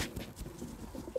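Chocolate-coloured pigeons in a breeder's loft give a soft, low coo amid faint shuffling, brief and fairly quiet.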